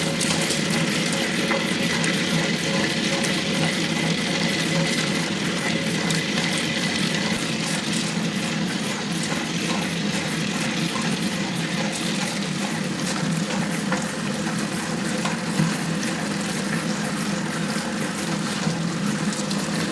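A wet grinder churns soaked parboiled ration rice into idli batter, producing a continuous, loud wet grinding and rumbling with a fine rattling texture that holds steady throughout, with no voices.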